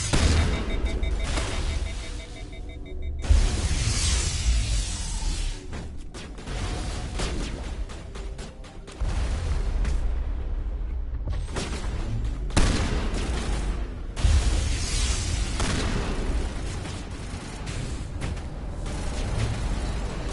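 Sci-fi battle in Mass Effect 1, with dense crackling gunfire in rapid bursts and heavy mechanical clatter and thuds, running continuously and loud with brief lulls.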